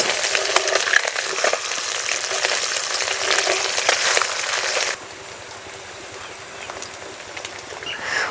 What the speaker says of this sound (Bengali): পুঁটি মাছগুলো বেশি ভাজবো না, এপিট ওপিট কালার এসে গেলেই তুলে নেব